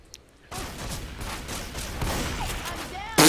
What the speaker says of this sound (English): Man, quit shooting me.